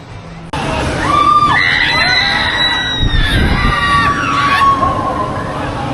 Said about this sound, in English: we heard the sound of the swoosh and the screams